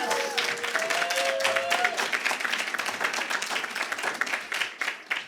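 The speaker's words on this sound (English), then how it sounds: "let's give a round of applause for Uli and all of her work" A lecture audience breaks into dense, lively applause for an honoree, with a few whistles at the start. The clapping stays strong and steady, then begins to thin near the end.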